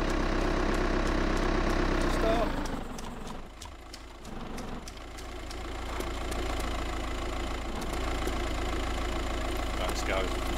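A car engine idles steadily in DayZ on Taviana, a constant low rumble that dips briefly before settling back, with players talking and shouting over it.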